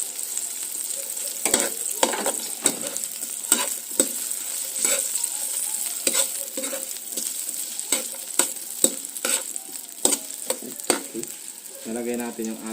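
Ginger and crab stir-fry in a pan of coconut-milk crab stew, a steady sizzle broken by repeated scraping stirs and clinks, with a bubbling burst near the end.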